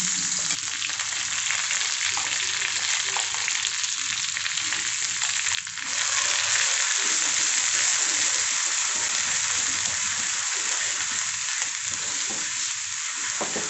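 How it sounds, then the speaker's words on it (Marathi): Spice paste sautés in hot oil in a pan for katwada, a loud, continuous frying sizzle with soft stirring scrapes mixed in throughout. "वाटण आपण चांगलं तेल सुटेपर्यंत छान परतून घेतलेलं आहे।"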